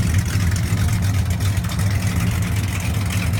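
A 429 Cobra Jet V8 in a 1970 Mercury Cyclone Spoiler idles with a deep, lumpy rumble, loud and steady throughout, with no talking over it.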